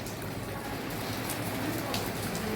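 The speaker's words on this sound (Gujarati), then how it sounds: "જો વરસાદ ચાલુ થઈ ગયો." Rain beginning to fall outdoors, a soft continuous patter heard at a distance, faint and steady throughout.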